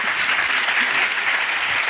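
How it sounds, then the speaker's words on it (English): An audience applauds steadily and loudly throughout, a dense continuous wash of clapping at the close of a panel talk on the French art scene in Paris. "A big round of applause."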